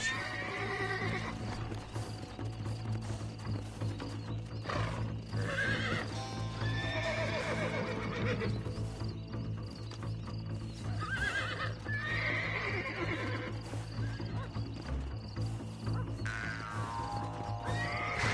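Horses trot with a steady clip-clop of hooves and neigh several times in Red Dead Redemption, set against a continuous outdoor game soundscape.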